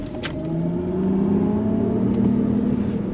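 A Mercedes-Benz EQS580 electric car plays its synthetic imitation of a combustion engine under throttle, a steady humming drone rising in pitch as it builds, fairly loud and close with no talk.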